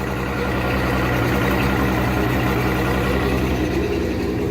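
Boat engine idling after being started out of winterization, a loud, steady low rumble with a regular throbbing pulse, running continuously and close by without voices.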